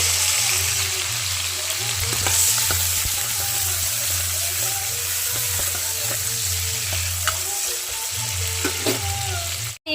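Onions fry in masala for a mutton curry, a constant broad sizzle with occasional stirring scrapes, loud and close over a low steady hum of the stove.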